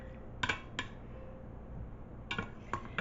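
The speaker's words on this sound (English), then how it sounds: "So I'm going to pull these out with a slotted spoon." Metal slotted spoon scooping cooked potatoes out of a pressure cooker pot, four quiet sharp clinks in two pairs against a soft background hiss.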